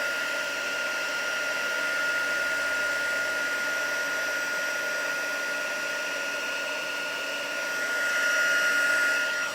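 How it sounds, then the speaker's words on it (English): A heat gun blows steadily while heat embossing a card from the back, a loud, constant whirring hum with a faint tonal whine, running unbroken and alone before swelling slightly near the end. "Sometimes some people prefer to heat emboss from the back of the card."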